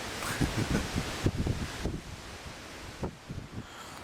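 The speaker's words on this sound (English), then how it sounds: "it's been very windy" Stormy wind gusting around a Cabela's XWT 12x12 canvas tent after two days of rain, rough buffeting blasts and fabric flapping, loud and close at first, then easing off into quieter gusts.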